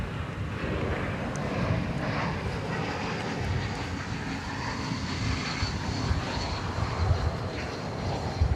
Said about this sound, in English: So from Los Cabos, Mexico comes American Flight 1304 there. Airbus A321